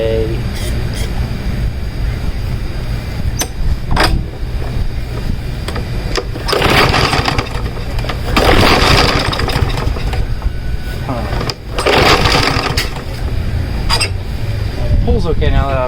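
Small engine of a Troy-Bilt 550ex lawn mower, restarted after being revived, runs with a steady close loud drone that surges and sputters in bursts, while a person talks over it.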